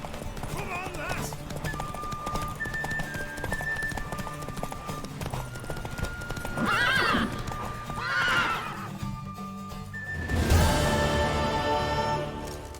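A horse whinnies and hooves clatter over a busy layered background with music-like tones in the video game The Witcher 3: Wild Hunt, a louder neigh bursting out near the end.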